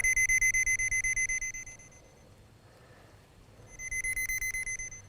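A steady electronic tone from an Armada Pro881 digital underground cable locator pulses rapidly, loud at first, fading almost to nothing in the middle, then swelling back up near the end.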